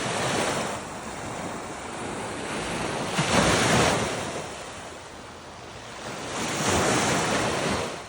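Lake waves wash ashore at Elk Rapids, Michigan, rising in two broad swells over a constant rush of wind buffeting the microphone, with no voices.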